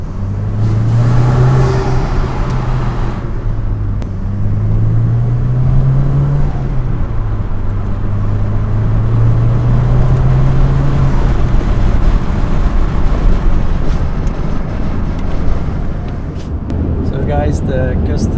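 Alfa Romeo 159 1750 TBi with a custom intake pipe on a short test drive, a loud, steady engine drone from inside the car with gently rising and falling revs, with speech heard alongside.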